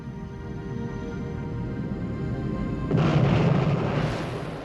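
A huge cinematic explosion depicting the Big Bang, a sustained rumbling roar that swells sharply about three seconds in into a louder, fuller blast before slowly easing, with no voices.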